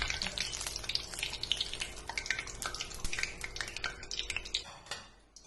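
Curry leaves fry in hot oil, crackling and spitting in quick irregular pops, with a faint steady sizzle and a few clinks of a utensil against the pan, then fading out at the end.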